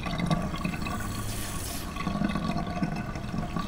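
Water runs steadily from a shower tap aboard a boat, a continuous close hiss and splash with slight surges in strength, no voices over it.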